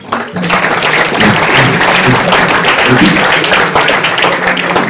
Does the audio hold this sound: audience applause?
yes